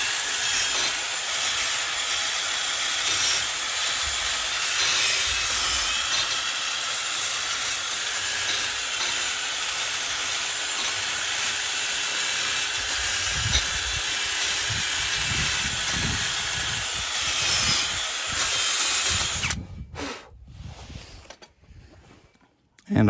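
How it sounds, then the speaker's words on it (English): An angle grinder with a wire wheel cleans the front brake hub face on a 2016 Ford Escape FWD, a loud, continuous harsh whirring hiss that cuts off abruptly near the end. "now we're going to clean up the hub face with the grinder, with the wire wheel."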